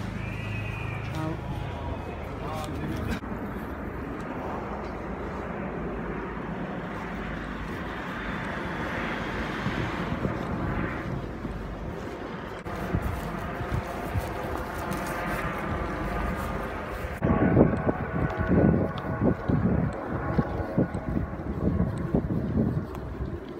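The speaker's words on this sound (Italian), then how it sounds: "Elicotteri." Helicopters flying overhead on a hot day give a steady, rumbling drone through wind noise, swelling louder toward the end, while someone talks over it.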